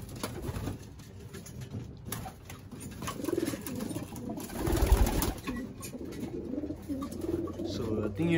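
Racing pigeons in a loft in Texas cooing repeatedly, soft rolling low calls overlapping close by, with faint background noise and a voice briefly talking.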